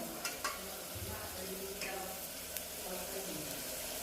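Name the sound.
tomatoes frying in a pan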